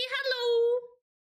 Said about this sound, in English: That's a cat right there.